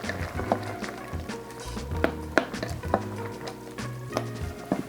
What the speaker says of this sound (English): I'm going to stir this around here.